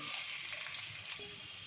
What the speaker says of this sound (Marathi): मी कढईमध्ये तेल टाकले। आता फोडणीला घालायचं आहे लसूण